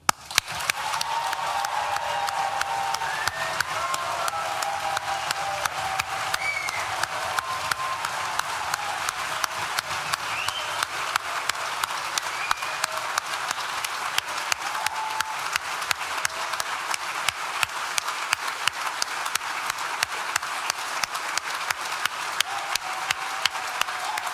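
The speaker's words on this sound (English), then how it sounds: "one final opportunity to stamp your feet, clap as loud as you can, hoop and holler" A graduation ceremony crowd at Nottingham Law School claps, stamps and cheers in a long, dense, sustained roar of applause with rapid crisp claps throughout, filling a large hall at steady volume.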